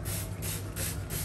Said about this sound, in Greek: σπρέι παντού